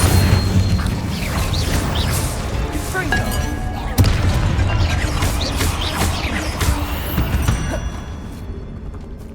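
Spell blasts crack and burst through combat in the video game Hogwarts Legacy, a dense run of booms, crashes and fiery whooshes with a sharp impact near the middle, loud and continuous.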